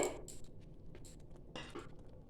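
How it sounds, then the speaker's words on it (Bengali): Metal lid lifted off a cooking pan of dhaba-style egg tarka, a few light clinks and clatters of metal near at hand, quiet and brief with no talk. "আমি 2 মিনিট পরে ঢাকাটা খুলছি।"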